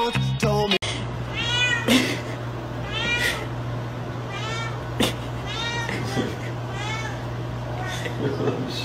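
A cat meows repeatedly, a string of drawn-out, wavering cries spaced about a second apart, close and fairly loud. A steady low hum runs under them, with a few short knocks near the start.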